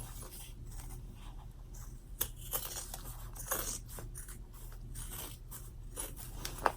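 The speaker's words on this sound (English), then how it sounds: "just cut all the way around your bag without cutting your stitches" Scissors snip through excess fabric and a spare zipper around the edge of a top-zip bag, giving quiet, irregular close-up cuts and rustles at a low level throughout.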